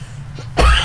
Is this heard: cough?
yes